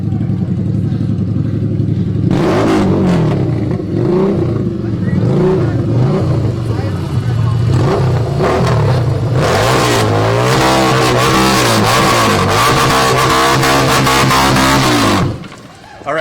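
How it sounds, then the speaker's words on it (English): A car engine revs hard and repeatedly at a street protest in Portland, the loud roaring surges almost continuous for about fifteen seconds, with crowd noise and voices mixed underneath before a brief drop at the end. "The cops are telling this person they can't rev their engine."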